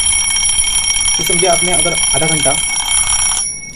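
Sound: twin bell alarm clock ringing

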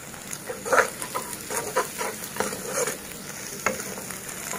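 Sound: eggs being scrambled and stirred in a hot pan

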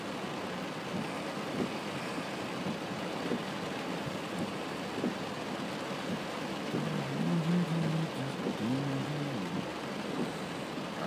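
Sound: rain

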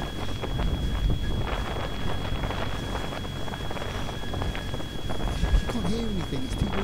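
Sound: strong wind blowing on the microphone

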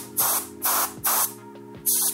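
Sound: compressed air blown into a fingerboard wheel bearing

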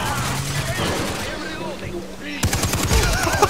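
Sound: assault rifle gunfire in video game Far Cry 3

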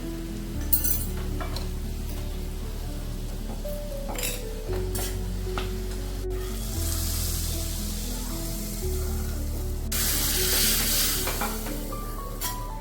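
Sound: sizzling of red chili powder added to hot chana dal tadka

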